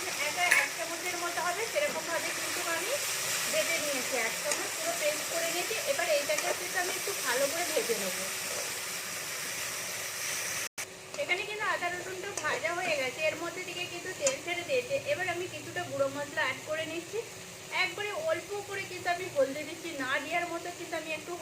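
Onion, ginger and garlic sizzle in a hot pan for a vegetarian okra dish, a steady hiss and crackle with stirring scrapes running throughout while a person talks over it.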